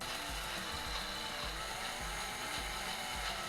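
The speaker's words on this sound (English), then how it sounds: "Next up, time to drill a hole." A power drill grinds a hole through a singing fish novelty toy in a steady, harsh whir with a repeating pulsing rhythm, fairly quiet and continuous.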